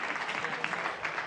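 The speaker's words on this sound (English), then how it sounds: "Round of applause for Steve, everybody." Brief, steady applause from a conference audience greeting a sponsor's speaker, a moderate even patter of clapping with no voices standing out.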